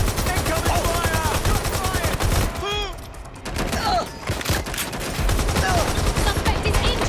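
Rapid automatic gunfire in Watch Dogs: Legion, loud close bursts of shots in quick rhythm that break briefly and resume, with short shouted voices heard between the volleys.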